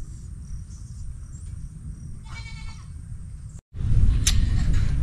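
A goat in a rural setting after a flood, a short bleat rising out of steady background noise with insects chirping, followed by louder rustling.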